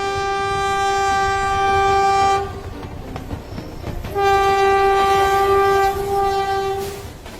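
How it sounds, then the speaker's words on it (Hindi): A cartoon train pulls into a station sounding its horn, two long, loud tonal blasts separated by a short gap with rumbling rail noise between them, no voices present. "ट्रेन तो आ ही गई"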